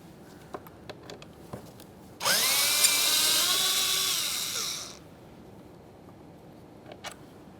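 A power tool with a 7mm socket spins out a window regulator mounting bolt inside the rear left door of a 2015-2020 Ford F-150, one continuous whirring run of about three seconds between faint clicks and handling noises.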